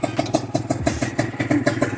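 Kawasaki Ninja RR two-stroke motorcycle engine running steadily close by, a rhythmic, slightly clattery idle with regular pulsing beats and no talk.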